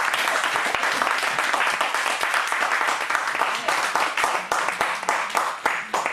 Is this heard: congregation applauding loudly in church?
yes